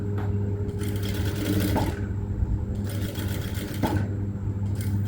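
A sewing machine stitches a curve slowly, running in short bursts of rapid clatter separated by brief pauses where it stops. It is close and fairly quiet.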